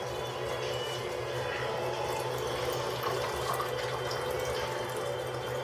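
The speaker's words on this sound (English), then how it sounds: "So let's add the water first." Water pours steadily from a tap into a container while soap batter is being prepared, a constant close rushing fill with no pauses.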